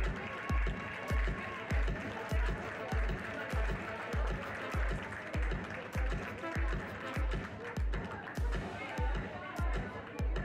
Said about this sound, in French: je vous demanderai de les applaudir bien fort, car ils le méritent